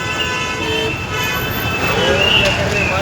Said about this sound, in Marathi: गर्दी होते बघा ट्रॅफिक जॅमच होतोय